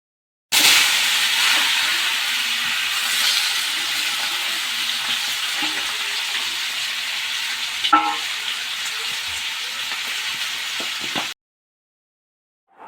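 Round-cut ivy gourd slices sizzling loudly in a hot pan while being stirred, a steady close frying hiss with scraping stir noises, ending abruptly after about eleven seconds.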